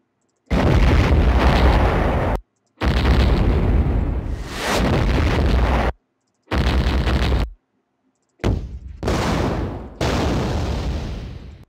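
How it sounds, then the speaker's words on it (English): Explosion sound effect for a horror video game: five loud booming bursts, each rolling on for one to two seconds with short silent gaps between, close and forceful with no voices. "Ooh, that sounds like a good explosion."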